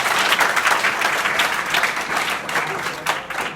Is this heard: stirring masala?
no